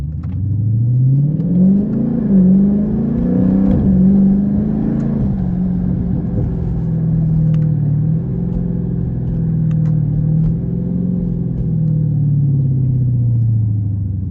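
A 392 V8 car engine fitted with a Z Automotive Tazer revs loudly and close, climbing and settling through gear changes into a deep sustained rumble with no talking over it.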